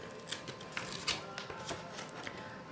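Scissors trimming a transparency sheet for a scrapbook page, a handful of short crisp snips and rustles of plastic, close and fairly quiet, with no speech.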